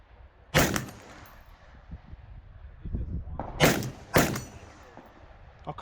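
Sharp, loud gunshots crack at a 3-gun shooting match: one early shot, then a close pair in quick succession, with clattering handling noise and low background sound between them.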